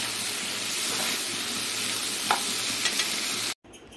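Food sizzles steadily in a hot pan with fish oil as it is stirred, a dense continuous hiss with a few scraping clicks, cutting off abruptly near the end.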